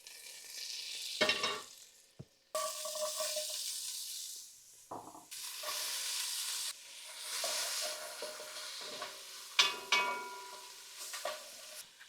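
Diced onion sautés in melted butter in a pot, giving a steady sizzle broken by stirring scrapes and brief pauses, heard close up with no talking.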